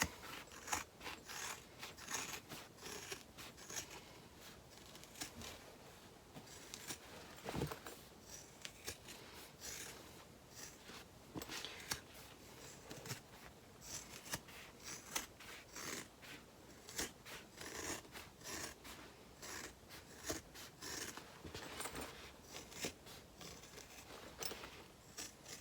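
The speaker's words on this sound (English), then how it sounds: "I'm just going to trim the seam allowance a bit now." Scissors trimming the fabric seam allowance on a sewn tote bag, a steady run of soft, close snipping and rustling cloth clicks with faint mechanical clatter, no talk.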